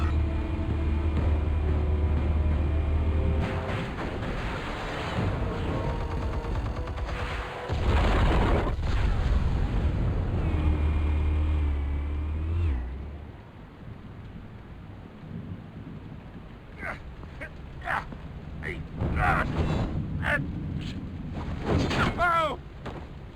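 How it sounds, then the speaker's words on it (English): Explosives go off in Batman: The Telltale Series, heavy deep booms and rumbling blasts that roll on and fade, followed by sharper crashes and debris clatter. "Explosives armed. Fire when ready."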